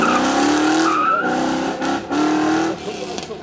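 A 5.7 litre V8 car engine at a supercar show demo, revving loudly and continuously in sustained pulls with brief dips between rising bursts, close by and dominant, with tire-squeal-like tones over the engine note.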